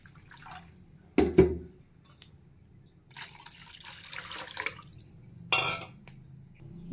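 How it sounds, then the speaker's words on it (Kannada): Water poured into a bowl of curd, about a quarter litre, splashing and trickling in a few short close bursts with quiet gaps between, no talk. "ನಾನಿಲ್ಲಿ 1/4 ಲೀಟ್ರ್ ಮೊಸರಿಗೆ 1/4 ಲೀಟ್ರ್ ನೀರು ಸೇರಿಸ್ತಾ ಇದ್ದೀನಿ."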